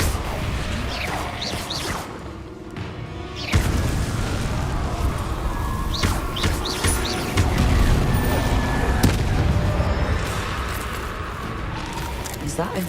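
Blasting Confringo spell explosions in Hogwarts Legacy gameplay, a dense run of booms, whooshes and crashing impacts that swell loud after a brief lull, with a voice talking over parts of it.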